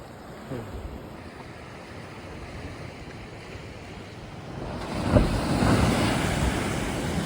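Large ocean waves breaking on a Konkan shore where fishermen work, a steady rushing surf with wind that builds into a heavier crash near the end.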